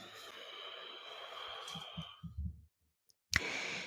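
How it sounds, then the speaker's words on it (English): One long, soft breath let out slowly to the end, a steady airy hiss that fades into near silence, followed by a brief click and a fresh rush of breath. "hold it at the top, and then exhale fully all the way out"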